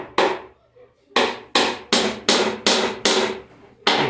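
Hammer strikes drive a small nail into a wooden crate, about eight sharp, evenly spaced blows with a pause after the first, close and loud with no talk.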